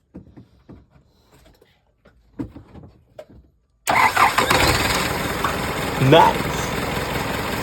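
A car engine starts after a full transmission overhaul, catching abruptly midway and settling into a loud, steady idle with a brief rev, following several seconds of faint scattered sounds and people talking nearby.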